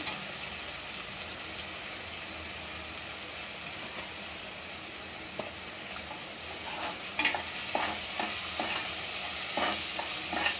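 Asafoetida dropped into hot oil with onions while cooking a sprouted moth bean curry, a continuous close sizzle with clattering spoon stirs picking up near the end.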